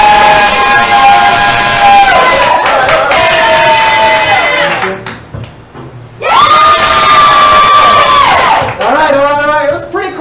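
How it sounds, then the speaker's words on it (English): A live show audience screams, cheers and whoops to pick a winner, loud and sustained with a short dip in the middle before the shouting surges again, voices layered in a dense crowd roar. "I want you to scream, hoot, holler, clap your hands, stomp your feet, whatever you got to do"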